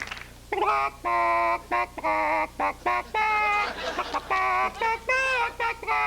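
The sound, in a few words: comedian imitating an Irish chicken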